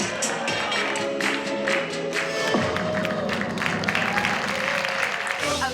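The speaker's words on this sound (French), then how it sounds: "Sur scène, ceux qui l'ont découvert en ligne applaudissent en vrai les tours les plus spectaculaires." A Las Vegas magic show audience applauds and cheers the most spectacular tricks, a dense, steady roar of clapping and crowd noise carrying on for several seconds, with music or voices underneath.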